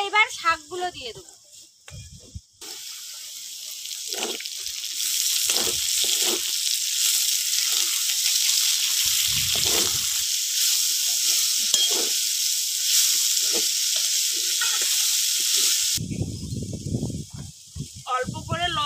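Leafy greens added to half-fried potatoes in a hot pan set off a loud, sustained sizzle that runs most of the way, with someone talking briefly before and after it.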